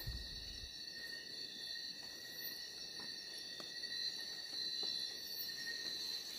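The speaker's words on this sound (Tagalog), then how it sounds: "Yun na yung ibon guys." Bird calling at night in a forest, soft hoots sounding faintly and far off under a steady, loud chorus of crickets and insects.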